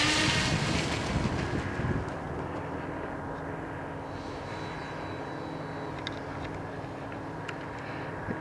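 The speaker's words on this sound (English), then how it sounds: "this plane will take off fairly fast" An FMS B-25 bomber RC model airplane takes off across a field, its motors producing a steady, fairly distant buzzing drone mixed with heavy wind noise on the microphone.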